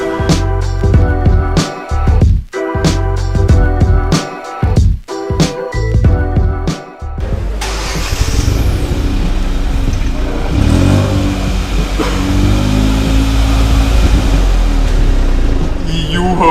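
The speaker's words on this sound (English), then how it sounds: "How can we talk about this car and not talk about its exhaust?" A 2022 Hyundai i20 N-Line with DCT gearbox: its engine and exhaust rise in a sustained, loud rev that builds and holds steady, close up and alone with no talk.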